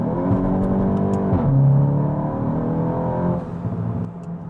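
A Stage 3 tuned VW Golf GTI MK8 with a large intercooler accelerates hard in second gear, engine note climbing loudly and close, then easing near the end.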